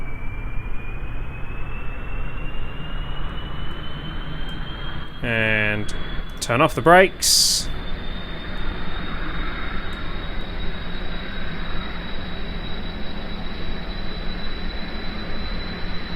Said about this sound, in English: Activate the engines.